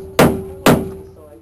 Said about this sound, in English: Got my hammer and chisel.